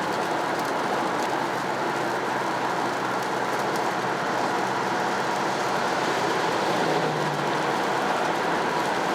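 Rain falls on a car's coated front windshield, a dense, continuous hiss of drops drumming steadily on the glass for the whole stretch with no voices.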